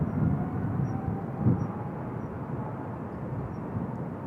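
A Korean Air jet departs Incheon for Heathrow, a steady broad roar of engines heard from a distance, even and sustained with no speech over it.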